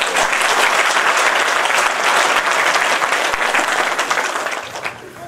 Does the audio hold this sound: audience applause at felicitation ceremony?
yes